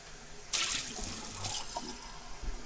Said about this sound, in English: So you're going to fill cold water up to that valve.